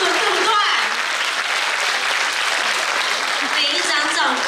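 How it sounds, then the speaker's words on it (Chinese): Parents clapping for graduates at a school graduation ceremony, a dense, continuous round of applause from a crowd that holds steady from start to finish. "爸爸妈妈给我们毕业生一个安慰的掌声好不好？"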